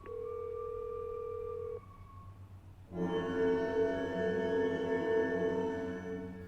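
A telephone sounds with a steady electronic tone for about two seconds, then cuts off, and a bed of sustained music swells in a few moments later.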